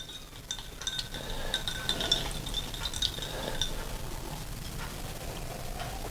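Ice cubes clink against each other in a glass of blended Scotch whisky, a run of light, bright taps close by over a steady low background hiss, fading out toward the end.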